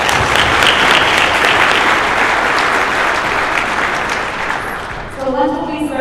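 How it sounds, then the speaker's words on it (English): A conference audience at a Disaster Recovery Journal general session applauds steadily, sustained clapping that fades slightly before a voice begins speaking near the end. "Another round of applause."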